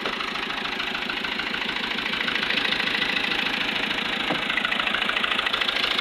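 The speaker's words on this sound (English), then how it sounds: "This is a tractor that transmits the torque." A tractor's diesel engine, powering a sawmill, idles steadily with a low, regular knocking chug, moderately loud and close, running without pause and with no one speaking.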